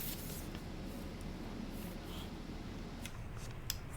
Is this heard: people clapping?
no